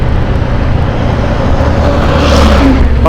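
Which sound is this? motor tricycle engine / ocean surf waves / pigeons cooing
motor tricycle engine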